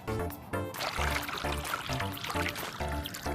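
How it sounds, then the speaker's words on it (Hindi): Ordinary water poured from a container onto a tea bag, a close, continuous splashing pour that comes in short repeated bursts with brief pauses between them. "तो अब मैं कैंगन को हटाऊंगा और साधारण पानी का इस्तेमाल करूंगा।"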